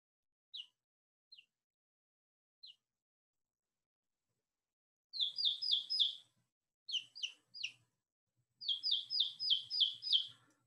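A baby chick gives a few sparse, thin peeps, then bursts into rapid clusters of high, clear chirps, close and alone against a quiet background.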